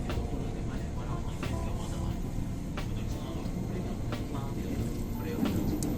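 A CommuterLine electric commuter train runs along the track in Jakarta, a steady low rumble with faint rail clatter and occasional metallic ticks, heard from inside or close by.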